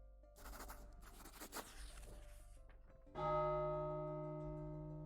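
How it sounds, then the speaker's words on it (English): A church bell in The Life and Suffering of Sir Brante rings for the evening sermon. It gives one loud, clear strike after a stretch of soft rustling, and the deep tone hangs on and slowly fades. "The bell summons everyone to the evening sermon."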